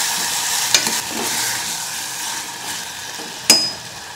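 Tomato and potato pieces cooking in a pan while being stirred, a soft continuous sizzle with scraping stirs and a couple of sharp clinks from the utensil.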